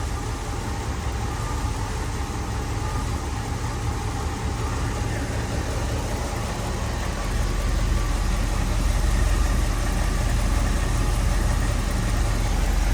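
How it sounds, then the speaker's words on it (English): A 1965 Ford Thunderbird engine idles steadily with a low, even rumble, and a faint lifter ticking runs beneath the broadband noise. "that engine's just purring"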